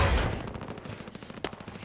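Rapid bursts of gunfire on Warzone's Rebirth Island, a heavy opening shot followed by fast repeated automatic cracks fading slightly.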